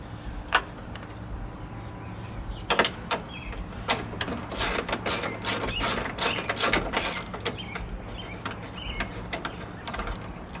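Ratchet wrench working two 12 mm bolts above the radiator of a Pontiac Vibe / Toyota Matrix, heard close up as bursts of rapid, sharp clicking with short pauses and a few single clicks before and after, with no voices.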